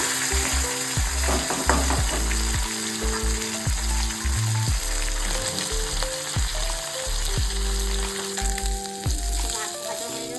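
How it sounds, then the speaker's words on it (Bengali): Pabda and amudi fish rubbed with salt and turmeric fry in hot oil, giving a loud, continuous sizzle that runs through the whole stretch beneath steady background music. "মাছ ভাজা হয়ে গেল, মাছটাকে তুলে দিচ্ছি।"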